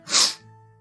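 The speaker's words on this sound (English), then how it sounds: "Hang on, I'm gonna sneeze." A single sharp, close sneeze from a person bursts out loudly and cuts off quickly, leaving a faint steady hum behind it.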